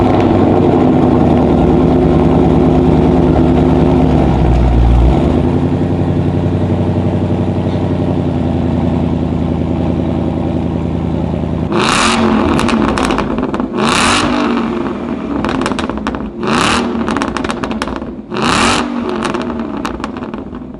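A 2016 Shelby Mustang Super Snake with a full Ford Performance exhaust rumbles loudly at a steady idle, then snaps into a series of sharp throttle blips with pops and cracks, heard up close and alone.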